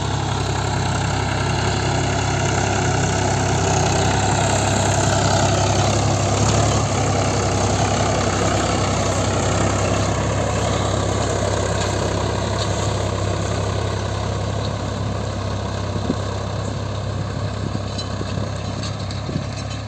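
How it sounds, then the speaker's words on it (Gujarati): A tractor engine runs steadily in a peanut field in Jamnagar while it lifts the crop out of the soil. It is a continuous, close, loud low rumble with a constant drone and no talk. "ટ્રેક્ટર હલાવી અને મગફળીનો પાર જમીનમાંથી બહાર કાઢી રહ્યા છે"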